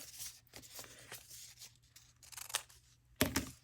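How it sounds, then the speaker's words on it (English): Scissors snip through paper at an angle to cut a hinge for a junk journal, giving a few crisp close cuts and rustles, with a sharper, louder snip near the end. "I like to angle cut my hinges"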